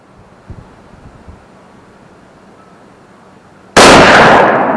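A 6.5 Creedmoor rifle firing Aguila ammunition lets off a single sharp, loud shot near the end, after a few quiet seconds, followed by a brief decaying echo.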